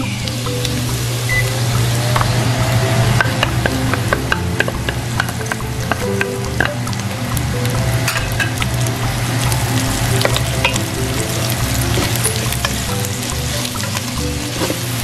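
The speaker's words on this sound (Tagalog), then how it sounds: "igigisa lang natin yung shrimp paste kasama ng ating bawang sibuyas and yung ating crispy pork" Shrimp paste sautéing with garlic, onion and crispy pork in a pan, loud steady frying sizzle with frequent sharp crackles and utensil stirring throughout, over a constant low hum.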